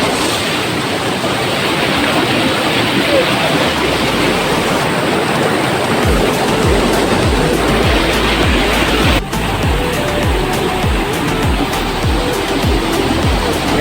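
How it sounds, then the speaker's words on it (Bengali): A waterfall pours into a pool where people bathe in very cold water among slippery rocks, giving a loud, steady, broadband roar that continues unbroken throughout with no voices. "ওই দেখুন ওয়াটারফল কত সুন্দর"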